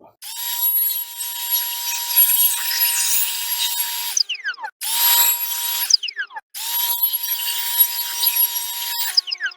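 A Milwaukee M18 cordless blower powered by an 18-volt 9.0 Ah lithium battery whines up close in three bursts, each with a steady high motor pitch, separated by brief pauses and short spin-downs.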